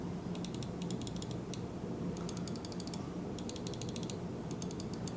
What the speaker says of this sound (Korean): G102는 클릭음의 경우